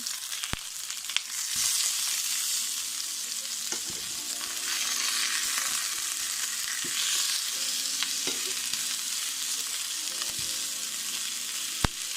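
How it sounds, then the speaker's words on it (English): Jerk salmon fillets fry in a pan with a steady loud sizzle and hiss, broken by occasional sharp pops, clicks and utensil taps as the pieces are turned, close up and without speech. "we're just gonna fry them up on both sides a little first"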